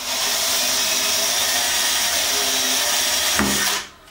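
A power drill whines steadily as it bores into wood during coat-rack construction, loud and continuous, then cuts off abruptly near the end.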